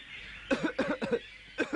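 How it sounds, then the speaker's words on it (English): Several loud, harsh coughs in quick bursts, a cluster of three or four, a pause, then one more cough, close to the listener. "Anansi started coughing loudly to drown out her voice"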